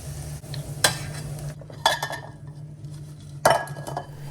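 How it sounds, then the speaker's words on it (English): Plantain frying in oil gives a soft, steady sizzle, broken by three sharp metal clinks from stirring utensils against the pan, with no voices. "You have to fry this until they're nice and caramelized"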